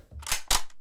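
Two sharp gunshot sound effects fired from a soundboard, close and loud, a crack at about a third of a second followed by a second blast, with no talking.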